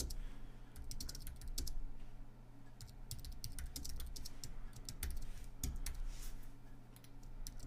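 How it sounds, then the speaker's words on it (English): Code being typed on a computer keyboard, quick clusters of close clicking keystrokes in uneven bursts over a low steady hum, no voice. "actually we'll just type this out"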